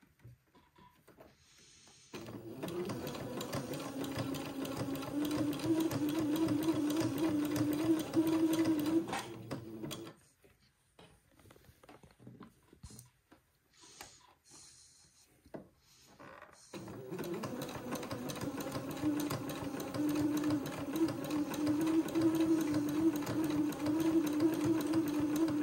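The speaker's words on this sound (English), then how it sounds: "this will take me a minute to get this zigzagged all the way along the leg hole opening" A sewing machine zigzag-stitching along the leg hole opening of a garment, a steady close motor whir with rapid needle chatter running for several seconds, pausing with quiet handling, then resuming.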